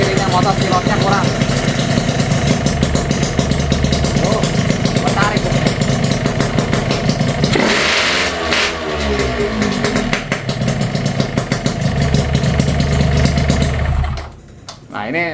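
A Yamaha RX King two-stroke motorcycle engine running with a hard-starting fault, its loud, close, uneven idle popping and rattling steadily, dipping briefly midway and cutting off near the end.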